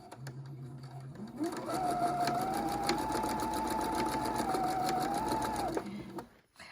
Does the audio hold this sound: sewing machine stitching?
yes